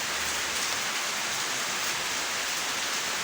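Steady rain falls on a wet morning, a dense, even hiss that fills the whole stretch without pause, close and moderately loud with no voices.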